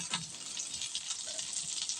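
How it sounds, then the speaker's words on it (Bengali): Spiny gourd (kakrol) pieces fry in oil with a faint, continuous hiss of sizzling and a few soft clinks from turning them. "উল্টায় পাল্টা একটু ভেজে নেব"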